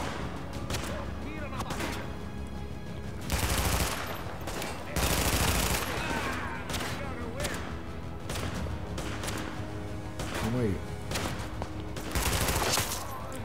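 Rapid bursts of gunfire in The Division, automatic volleys and single shots, loud and continuous, with a voice talking over the shooting.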